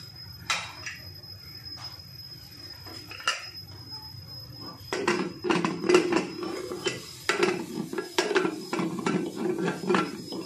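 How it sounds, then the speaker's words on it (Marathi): A lid being fitted onto a pressure cooker holding a mung dal and rice paste, with a run of close metallic clanks and clatters that grows busier toward the end, no talk. "आता याला मी झाकण लावून घेते"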